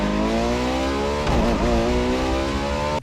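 A racing car engine from a retro racing video game roars steadily at high revs, its pitch dipping and surging midway as if shifting gears, loud and close with no talking.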